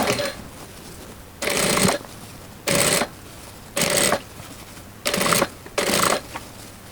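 A sewing machine stitches a seam on a linen summer dress in six short bursts separated by quiet pauses, each burst a brisk close rattle.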